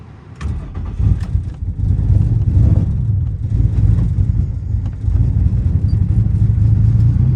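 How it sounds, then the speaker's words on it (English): A turbocharged Nissan G35 cranks and catches with added throttle, settling into a loud, deep, uneven idle with rough pulsing rumble up close. "whenever I'm starting my car, it doesn't want to start unless I give it more throttle"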